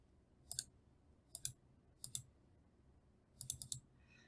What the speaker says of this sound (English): I'm just going to keep clicking down the line.